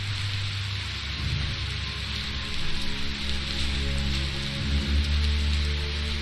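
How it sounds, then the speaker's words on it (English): Steady rain hisses down in the Biomutant game world, a dense, even wash of noise that continues throughout beneath sustained low musical tones. "The rain can't last forever, right?"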